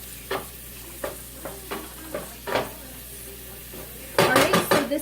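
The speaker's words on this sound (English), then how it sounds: "this is going to saute for 10 to 12 minutes until everything gets nice and soft" Fennel and couscous filling sautéing in a pan, stirred with a wooden spoon: a series of soft scraping strokes about once a second over a low sizzle, then a louder burst of clattering stirring at the end.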